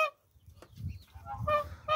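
A male goose guarding goslings gives harsh, close honks in repeated bursts, growing louder toward the end.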